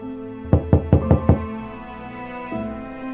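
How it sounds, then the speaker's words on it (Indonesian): Five quick, evenly spaced knocks on a house door, loud and close, followed by a low hum of background noise. "Jangan kurang ajar, ketuk-ketuk pintu rumah orang ya."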